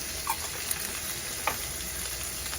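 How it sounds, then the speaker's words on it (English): Green chilies go into a pan of cooked, drained ground meat, giving a soft steady sizzle with a few light stirring scrapes close by. "We're going to add in the green chilies."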